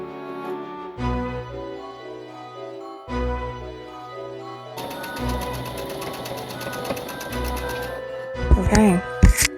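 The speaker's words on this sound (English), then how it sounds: "I think I might stitch out a sample of a couple of them and then make a decision." A sewing machine runs in steady bursts of rapid stitching while stitching out a sample, with pauses between runs and a brief clatter near the end.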